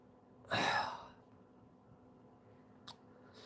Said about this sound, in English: I'm sorry if you can hear me sniffing as well.